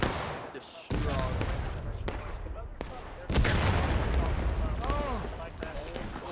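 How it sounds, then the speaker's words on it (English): An artillery cannon shot in the War of Rights video game, with two heavy, booming reports around the one- and three-second marks over rumbling battlefield noise and talk. "Good CSA artillery shot"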